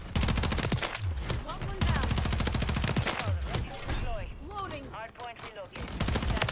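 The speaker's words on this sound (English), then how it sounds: "I feel invincible with this new SMG." Rapid sustained bursts from a Static-HV submachine gun in Modern Warfare 3, a fast dense rattle of shots firing almost continuously, with brief pauses and someone talking over the fire.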